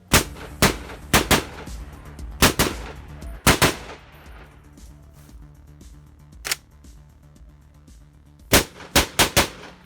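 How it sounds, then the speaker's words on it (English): Suppressed gunfire from a Desert Tech MDR rifle, loud and close: irregular clusters of sharp reports, single shots and quick doubles and triples, separated by short pauses with no talking. "Shooting the MDR in this configuration is incredibly fun."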